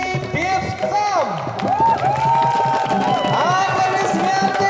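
A festival crowd at a communal drum jam claps and cheers loudly and continuously, with voices whooping and shouting over the dense applause and an announcer calling out.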